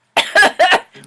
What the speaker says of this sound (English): Except I'm coughing.